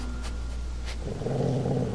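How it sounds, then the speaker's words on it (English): A puppy in The Walking Dead: Season 2 game gives a low, rumbling growl that swells up close and steady in the second half of a quiet stretch, with no talking. "Oh, it's a puppy!"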